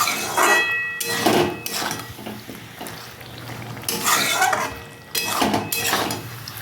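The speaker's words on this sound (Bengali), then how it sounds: "এইভাবে আমি এখন এটা কষাতে থাকবো বন্ধুরা" Pointed gourd and prawns are stirred in a pan, with a spatula scraping and clinking against the metal in irregular bursts over a low sizzle, close by and without talk.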